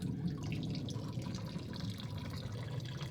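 Gentle trickling and splashing of water being pumped from a reservoir into a medaka fish tub, low and continuous with faint dripping.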